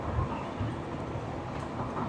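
Train cars running along the rails on a rail journey from Kolkata, a low, steady rumble with faint rattling heard from inside the carriage, and no one speaking.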